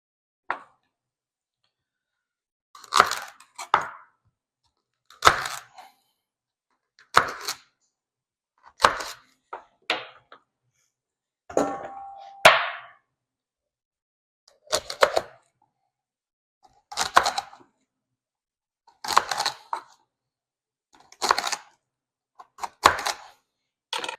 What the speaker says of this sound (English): Again, either with a chef's knife or a serrated knife, we are going to cut this into 1-inch strips